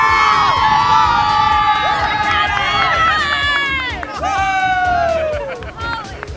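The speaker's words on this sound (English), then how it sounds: "Yeah, you got a whole crowd." Wedding crowd at a golf club cheering, a loud, close burst of whoops, shouts and excited babble from many voices, with high-pitched yells rising and falling throughout.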